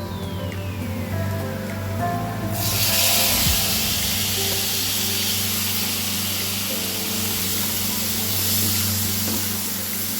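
Cooked breadfruit is dropped into a hot frying pan with chili powder, setting off a sudden loud sizzle that keeps crackling steadily over a low hum.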